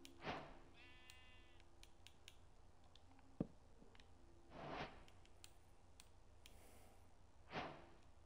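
Sheep in Minecraft bleat a few times in a spruce taiga biome, short quiet calls spaced apart over a faint background with a couple of small clicks.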